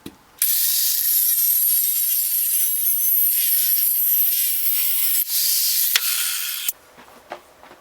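A power saw cuts through a scrap piece of 3/4-inch steel in a workshop, a loud continuous grinding whine close by for about six seconds, briefly dipping before stopping, followed by a few light clanks.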